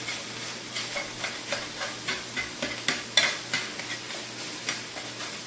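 Ground turkey being broken up and stirred in a sizzling pan at home, with steady frying hiss and a regular series of close scraping strokes from a utensil.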